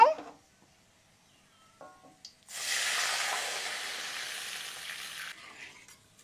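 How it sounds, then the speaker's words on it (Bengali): Water poured into a wok of hot oil with fried garlic bursts into a loud, steady hiss that runs for about three seconds and then cuts off, following a few quiet clinks. "কড়াইতে জল দিয়েছি"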